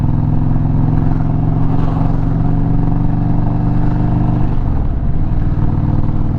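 A 2021 Indian Chieftain Limited motorcycle rides along with a loud, steady low engine drone and wind rush throughout, the note dipping briefly as the rider shifts near the end.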